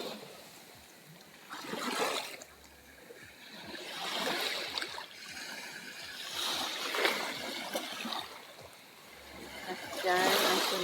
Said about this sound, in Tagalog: Yan ang tunog ng alon.